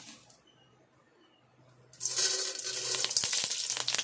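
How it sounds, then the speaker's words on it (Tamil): Fenugreek seeds hit hot oil in a pan and burst into a loud, bright sizzle after a quiet opening, crackling steadily and up close for the last couple of seconds. "இப்போ எண்ணெய் ஹீட் ஆகிடுச்சு வெந்தயம் சேர்த்துக்கலாம்"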